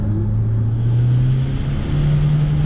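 A remapped car engine held at high revs with the pedal pressed to the floor, a loud sustained droning roar whose pitch creeps slightly upward, close by.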